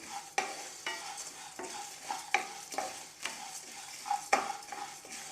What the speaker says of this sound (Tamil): சேர்த்துட்டு எல்லாம் ஒன்றாவே வறுத்துக்கலாங்க.